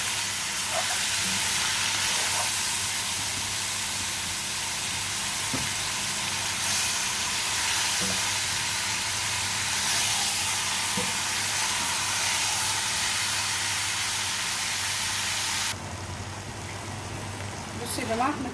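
Chicken sizzles and fries loudly in a pan while being stirred, a dense continuous hiss with occasional scraping clicks, heard alone and close throughout.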